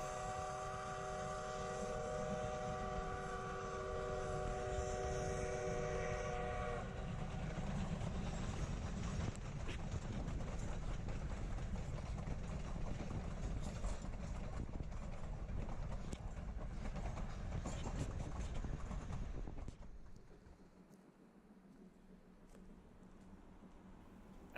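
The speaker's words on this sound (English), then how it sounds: "After recording the passage of the train at Hermosa" A Durango & Silverton narrow gauge train passes at Hermosa: layered whistle-like tones ring over a heavy rumble for the first seven seconds. Steady rolling noise follows, then cuts off sharply near twenty seconds, leaving quiet.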